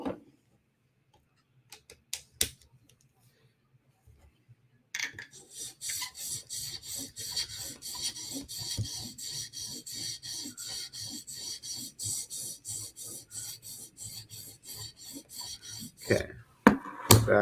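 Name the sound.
sharpening a Spyderco knife on a 400 grit stone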